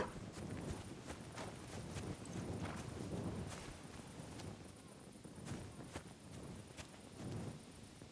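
Horse hooves clip-clop at a walking pace in the medieval game Kingdom Come: Deliverance II, faint steady beats over quiet ambience, with a voice speaking occasionally.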